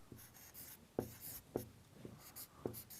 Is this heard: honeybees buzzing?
no